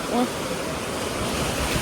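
Sea waves wash steadily onto a busy beach in Spain, a broad continuous roar of surf close by with a brief voice-like tone near the start.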